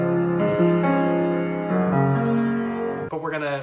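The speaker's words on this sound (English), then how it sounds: "Normally, this pre-chorus bit sounds like this." A piano plays the pre-chorus of a song, sustained chords ringing and shifting every second or so, played alone at moderate loudness with no talk.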